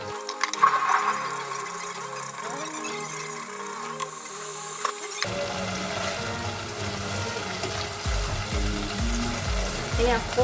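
Sambal frying in oil left over from frying seasoned chicken, a steady close sizzle with stirring scrapes that grows denser and louder partway through, with no talking.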